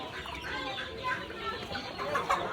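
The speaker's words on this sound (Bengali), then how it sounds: "আর এখানে সব বেবি মুরগি বাচ্চা মুরগি সব আছে।" Chickens and baby chicks clucking at a Bengali market stall, a steady busy cluck and chirp running throughout over crowd chatter and voices.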